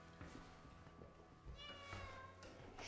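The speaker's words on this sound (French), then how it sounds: "On est un petit peu au royaume des chats ici." Cats meow softly inside a house, a few faint drawn-out cries, distant and low in level over a murky room background.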